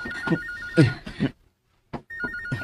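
A telephone rings in repeated bursts, with a short silent gap between them, at moderate volume.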